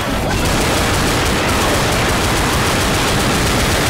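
Sustained, loud automatic gunfire from the Left 4 Dead video game, a dense continuous fusillade of rapid shots filling the whole stretch without pause.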